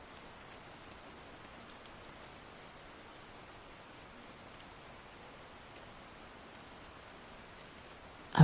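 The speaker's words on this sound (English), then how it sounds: "A relentless rain falls over the city, washing the soot from the brickwork and turning the alleyways into rivers of mud." Heavy rain pours steadily over a city, a dense, even hiss of drops on brick and pavement that holds close and constant throughout, with no voices.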